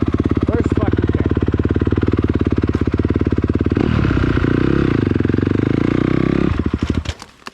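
A dirt bike engine on a race bike, kick-started on a trail. Loud, close, rapid firing pulses run steadily, shift as the revs change, then sputter and die away near the end.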